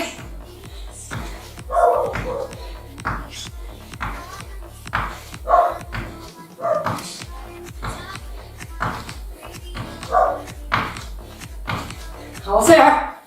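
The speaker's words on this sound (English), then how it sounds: "Ignore that barking dog." A dog barks several times in the background, with short bursts spread across the stretch. Steady rhythmic workout music runs underneath and stays louder than the barking, and footfalls shuffle along with it.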